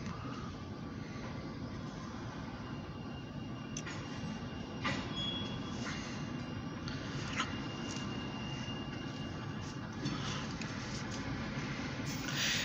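A former Canadian National diesel locomotive hauls a short grain hopper train past at a moderate distance, giving a steady rumble of engine and rolling wagons with scattered metallic clanks and faint wheel squeals, and no talk.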